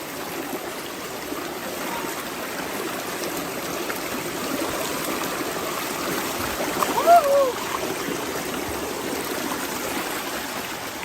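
River water flows and trickles in a steady broadband rush close by, continuous for the whole stretch, with a brief faint higher sound near the end.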